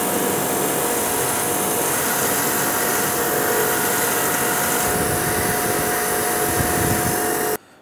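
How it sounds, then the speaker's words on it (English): A bench wire wheel scrubbing brake caliper pins, a loud continuous whirring grind with a steady motor hum that runs unbroken for several seconds before cutting off abruptly at the end. "We're going to take these to the wire wheel, clean up basically from here back and all in here."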